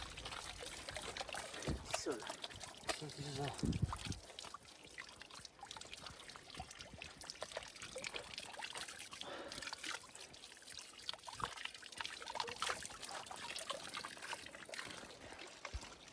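Water trickling and splashing steadily nearby on a hiking trail, a continuous liquid babble with occasional louder pours.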